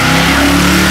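A primered Ford pickup truck and a primered Olds Cutlass rev loudly at the drag strip, one close engine roar holding a steady droning tone for the full second.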